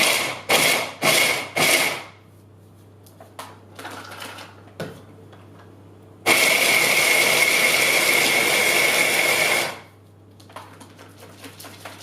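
A food processor whizzes macadamia nuts: a few short loud pulses, then a sharp steady whir for about three seconds, ending in quieter clatter as the bowl is handled.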